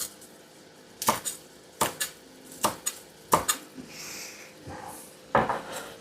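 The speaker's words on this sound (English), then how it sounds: "Let me chop up this basil." A knife chopping fresh basil on a cutting board, a handful of sharp, close knocks spaced irregularly with soft rustling between them.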